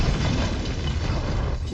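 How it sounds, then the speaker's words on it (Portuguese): A spaceship breaks apart and explodes in a ball of fire, a loud, dense roar of blast rumble that fills the whole moment before easing off at the end. "A nave se despedaça e explode em uma explosão de fogo."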